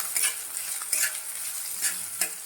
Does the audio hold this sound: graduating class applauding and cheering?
no